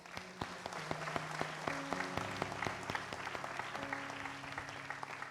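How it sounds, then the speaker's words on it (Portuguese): An audience claps steadily after a symposium marking the 60th anniversary of the Atrios Orchestra at a church in Passo Fundo, a dense wash of applause heard at a moderate distance, with faint background sounds layered beneath the claps. "Palmas."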